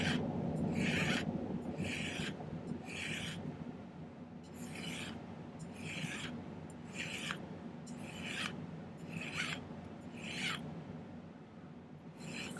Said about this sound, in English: I'm going to kind of file those down into a slope